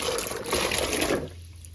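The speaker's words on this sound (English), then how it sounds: "we're going to submerge these in a big old sink of cold water" Cold water rushing and splashing in a big sink as fresh cherries are submerged, a loud busy gush that tapers off into a quiet trickle near the end.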